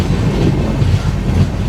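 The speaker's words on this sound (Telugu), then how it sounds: "ఇప్పుడు శ్రీకాకుళం రోడ్ నుంచి అయితే బయలుదేరిపోయినాము" A new Humsafar weekly express pulling out of Srikakulam Road station gives a continuous deep rolling rumble with a faint rhythmic rattle of wheels and carriages, steady and close throughout.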